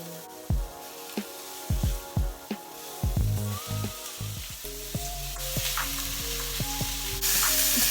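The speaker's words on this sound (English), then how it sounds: "I like to use a spatula to cook my ground beef, just so I can break up the beef" Ground beef sizzling in a pot on the stovetop for chili, a steady frying hiss punctuated by sharp scrapes and taps of a spatula breaking up the meat.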